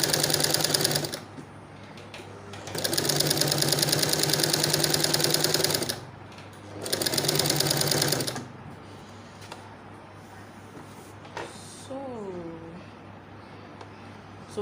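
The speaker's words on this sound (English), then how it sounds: "So now I'm going to take it to my sewing machine so I can secure it to my fabric." A sewing machine stitches along the edge of a fabric placket in two long, steady mechanical runs with a pause between them, then falls quiet with faint handling noises.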